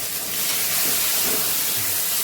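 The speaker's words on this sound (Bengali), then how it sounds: "আমি প্রথমে মাছগুলোকে একটু ভেজে নিচ্ছি হালকা করেই ভাজতে হবে" Fish frying lightly in a pan of oil, a close, steady broadband sizzle and hiss throughout without talk.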